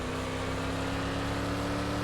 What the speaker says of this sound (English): this thing sounds like it got a race car engine in it